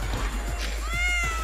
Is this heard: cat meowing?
yes